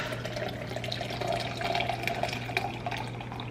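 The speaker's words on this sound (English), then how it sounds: "And I fill this about 3/4 of the way up." Hot water pours steadily from a kettle into a cup of tea with lemon, filling it about three-quarters full, a continuous close liquid trickle over a low steady hum.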